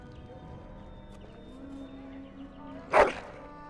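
A single short bark from a dog in Dragon Age: Origins, rising briefly above a low, steady game ambience and music bed before fading back out.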